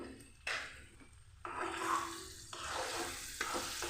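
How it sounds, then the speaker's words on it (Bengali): Cauliflower florets drop into hot oil with turmeric and salt and fry, a close sizzling hiss that swells with each addition and settles into a steady crackle, fairly quiet overall. "গরম তেলের মধ্যে কপিগুলোকে দিয়ে দিচ্ছি"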